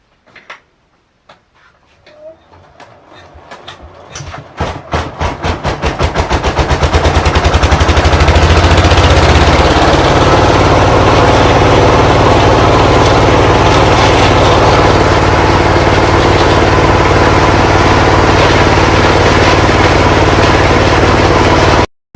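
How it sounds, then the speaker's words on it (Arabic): Grinding machine starting up and milling agarwood into sawdust, rapid pulses speeding into a loud, dense, continuous mechanical roar that holds steady until it cuts off abruptly. "ياخذون الخشب هذا ينزلونه في الماكينه، وتبدا الماكينه تطحنه"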